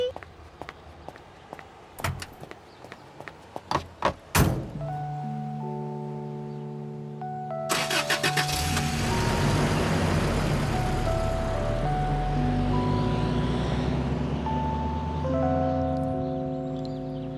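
A moving truck's engine turns over and settles into a steady rumble that grows as it pulls away, following several sharp knocks and thuds, with music running underneath.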